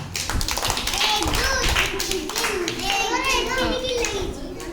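Children clap together in a classroom during an alphabet card lesson, a dense burst of hand taps mixed with lively child chatter and a teacher's voice throughout.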